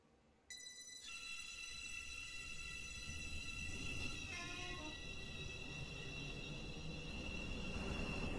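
A train runs in the Roblox game Stepford County Railway, a steady low rumble building after a sudden start, with high electronic tones and whines over it that shift partway through, no talking.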